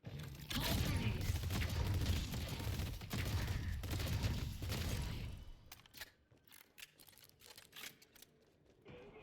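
Pulse grenades going off in a video game battle, a loud dense stretch of crackling, booming bursts that gives way to scattered sharper clicks and pops as the fighting thins out.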